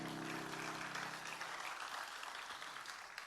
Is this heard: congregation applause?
yes